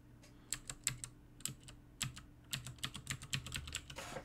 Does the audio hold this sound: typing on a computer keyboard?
yes